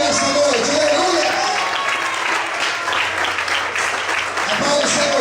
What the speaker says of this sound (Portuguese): glorifique e aplaude o Senhor com muita alegria nesta noite